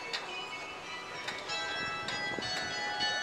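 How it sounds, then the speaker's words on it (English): Church bells of Notre Dame ring in the distance, a series of faint metallic strikes with lingering resonant tones over steady outdoor background noise. "it's time for bells again, 24/7."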